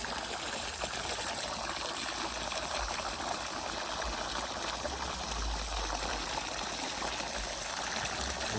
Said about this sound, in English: Let's just put it in there and let it run till it runs over and flushes water.